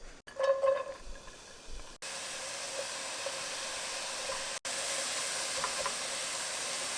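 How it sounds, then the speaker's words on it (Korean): Onion and garlic sauté in a spoonful of olive oil in a pan, giving a soft, steady hiss after a few brief clinks at the start, faint and close, with no talking. "팬에 이제 올리브오일 한 수저를 돌리시고 양파하고 마늘 먼저 볶아줍니다"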